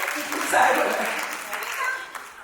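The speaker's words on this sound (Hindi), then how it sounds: "सुनीता जी की बात जोरदार ताली हो जाए" Audience clapping at a Dandiya festival held by a Jain social group at a hotel, a steady broad wash of applause lasting a few seconds, with speech over it.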